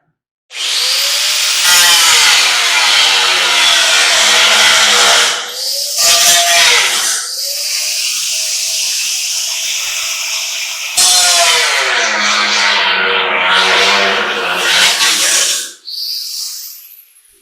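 A power tool cuts an aluminum ladder clamped in a vise, making loud, whining bursts of sawing that stop and restart several times.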